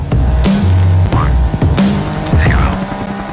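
A SkySurfer manned drone aircraft flying over a snowy backyard gives a loud, steady throbbing motor hum with rising and falling whines that swell every second or so, close and continuous.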